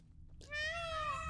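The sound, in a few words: peacock call in The Witcher 3 video game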